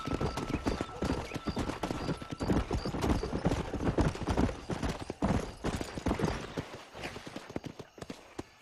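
Horses gallop in the Western video game Red Dead Redemption, with rapid, continuous clip-clop hoofbeats close up and occasional whinnies over a busy, steady backdrop.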